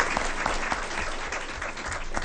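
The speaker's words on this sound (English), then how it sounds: "let's have another round of applause for all of our transportation honorees of the year." Audience at a school board meeting applauding transportation honorees of the year, a full, steady burst of many people clapping with a few sharper claps standing out near the front.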